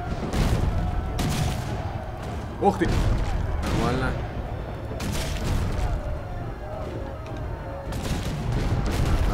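Cannon fire and battle booms in the video game Risen 3: Titan Lords, dull blasts and crackling gunfire layered under someone talking excitedly in Russian.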